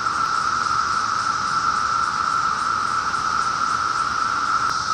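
A chorus of cicadas gives its mating call from a backyard crepe myrtle tree in Fairfax, Virginia, a loud, continuous, shrill buzzing drone that holds unbroken throughout.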